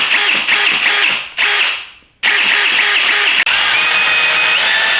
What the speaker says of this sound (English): I'm going to use a pilot drill bit first.